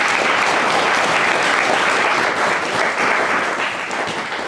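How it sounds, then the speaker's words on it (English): A gathering audience gives a sustained round of applause for a singer, thick continuous clapping at full strength that eases slightly toward the end, with no speech over it. "How about giving him a round of applause?"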